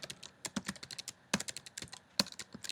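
A computer keyboard clatters as C# code is typed, with quick, uneven bursts of close, crisp key clicks and short pauses.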